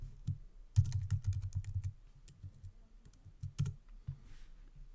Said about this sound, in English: you want to type in a valid address